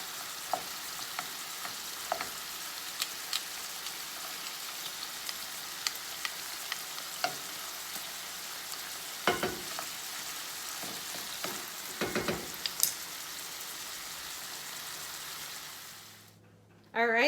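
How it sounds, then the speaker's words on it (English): Ground beef browning in a pan while a potato masher breaks up the chunks: a soft continuous sizzle with scattered scraping and tapping bursts, fairly quiet and close, ending abruptly. "for browning ground beef, sometimes these little chunks, they're kind of hard to break up. I use a potato masher"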